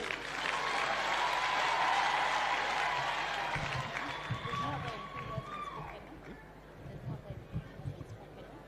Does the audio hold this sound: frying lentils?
no